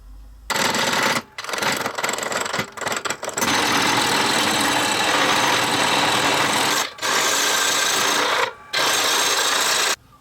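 A lathe turns round wooden stock near the chuck, a steady loud whirring cut that runs in long stretches broken by a few brief pauses.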